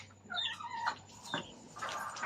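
A tired chicken clucks close by in a few short, uneven bursts over roughly two seconds against a quiet background.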